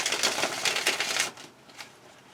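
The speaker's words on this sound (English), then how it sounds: "Okay, I'm shuffling the tarot." Cards riffle and slap in a quick, crisp shuffle close by, then trail off into a few softer flicks.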